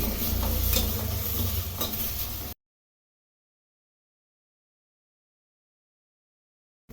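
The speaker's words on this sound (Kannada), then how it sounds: "ಒಂದು ಪಾನನ್ನು ಇಟ್ಕೊಂಡು ಎಣ್ಣೆ ಹಾಕ್ದೇ ಬದನೆಕಾಯಿನ ಫ್ರೈ ಮಾಡ್ಕೊತಾ ಇದ್ದೀನಿ" Eggplant dry-frying in a pan with no oil, a steady close sizzle and scraping stir for about two and a half seconds before cutting to silence.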